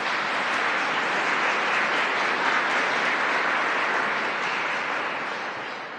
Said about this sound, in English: Let's give Melinda a round of applause as well.